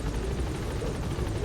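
A helicopter lifts off from a landing zone in Metal Gear Solid V: The Phantom Pain, a close, continuous rotor and engine rumble filling the short stretch with no speech.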